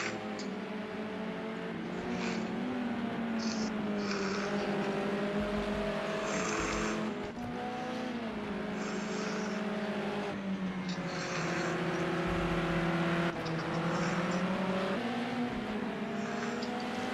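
Race cars circle the Circuit of the Americas, engines droning steadily and rising and falling in pitch through gear changes as they pass, loud and continuous throughout.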